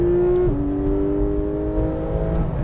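Inside a sports car on a race track, the engine drones and climbs steadily under throttle, a loud close-up hum with a brief pitch dip early on, with no talk over it.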